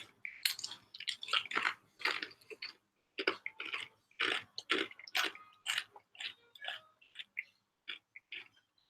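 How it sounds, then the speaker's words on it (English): Crisp, close crunching of Pringles potato chips being bitten and chewed, picked up with chopsticks, in quick irregular bursts with brief pauses between mouthfuls and no talk. "Because I'm eating Pringles."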